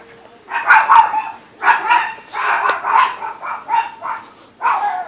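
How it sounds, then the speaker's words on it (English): Chihuahuas in a garage bark and yip in repeated short bursts, fairly loud and close, with brief pauses between volleys. "my wife has chihuahuas, you can probably hear in the background"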